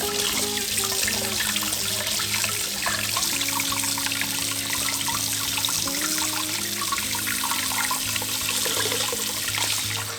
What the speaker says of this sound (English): now we're gonna clean this and rinse it in some water.